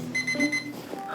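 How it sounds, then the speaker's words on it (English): A toy-like electronic alarm clock rings at six o'clock. Its bright, warbling tones shift and repeat quickly through the whole short stretch, fairly loud and close, with no talking. "Why did I set the alarm so early?"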